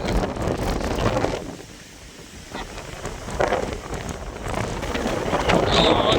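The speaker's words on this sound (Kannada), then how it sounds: "ನೋಡಿ ಎಷ್ಟೊಂದು ಗಾಳಿ ಇದೆ" Strong wind buffets the microphone in gusts on an open hilltop road near a temple, a dense roar that eases briefly midway before surging back loud.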